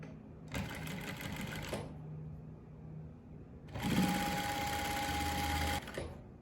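Sewing machine stitching a cargo pocket, two separate bursts of rapid mechanical running with a quieter handling pause between them, close and steady.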